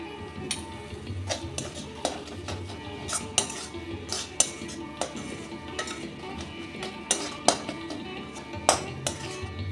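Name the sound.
stir-frying ash gourd peel paste with fried egg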